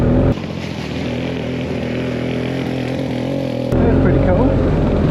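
A restored 1965 Gnat Mk1 vintage ATV engine runs close by with a loud, steady buzzing drone that briefly dips and then swells louder near the end.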